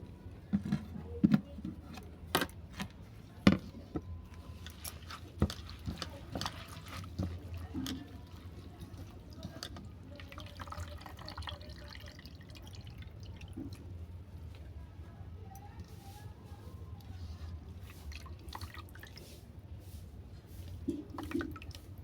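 Jute leaves and cut potatoes are washed by hand in water, with intermittent splashes, drips and trickles over a low background hum, rising and falling through the clip.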